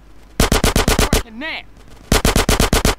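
Rapid machine-gun fire in the video game GTA San Andreas comes as two loud, close bursts of evenly spaced shots, separated by a short warbling tone.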